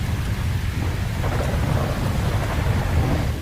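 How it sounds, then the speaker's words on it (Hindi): Heavy rain pours steadily with deep rolling thunder rumbling underneath in the video game GTA 5, a dense continuous roar throughout with no voices. "बाहर में बहुत तेज बारिश हो रही है, बिजली भी कड़क रही है"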